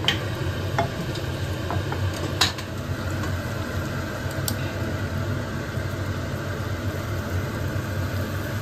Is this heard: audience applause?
no